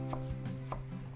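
A knife slices a radish lengthwise on a cutting board, a few quiet, crisp chopping taps in quick succession.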